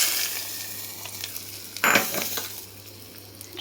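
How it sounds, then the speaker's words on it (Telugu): Mustard seeds, fenugreek and asafoetida tempering in hot oil for a karonda pickle, a steady close sizzle with a sharp burst of crackling midway and a brief metallic clink. "దీంట్లో నూనె వేసి పోపు పెట్టుకోవాలి."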